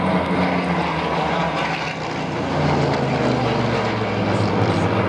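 Messerschmitt Bf 109 fighter flying a display at the Duxford air show, its piston engine a loud, continuous droning roar that dips slightly midway before swelling again, with no speech.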